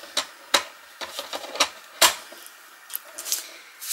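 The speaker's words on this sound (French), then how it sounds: "avec mon massicot, je vais couper" A paper trimmer cuts paper in a craft setting, producing a series of sharp, separate clicks and snaps in an uneven rhythm, close and fairly quiet.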